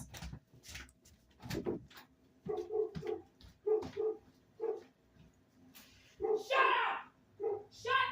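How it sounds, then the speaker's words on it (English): A dog barks repeatedly in short bursts at a moderate distance, with sharper yaps near the end and faint talk mixed in. "the entire dog society started barking"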